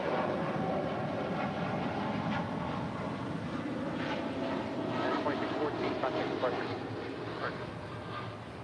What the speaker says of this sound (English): This is United Airlines Flight 2614 departing to Newark on the 787-10 Dreamliner